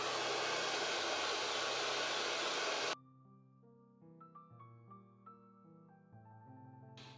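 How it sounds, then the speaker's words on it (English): A hair dryer runs on full speed with a loud, steady, close rush of air for about three seconds, then cuts off abruptly and leaves faint tonal music. "I have it on full speed to really blow the hair through"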